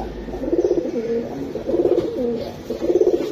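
Pigeons kept for sale at a market, including high-flyer and fancy breeds, coo in repeated soft throaty bursts, three rolling phrases close to the microphone with a low background murmur.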